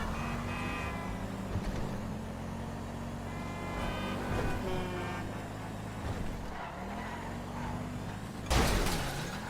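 A car being wrecked in Grand Theft Auto 5: a steady engine drone with passing traffic, scattered knocks, and a loud crunching impact near the end.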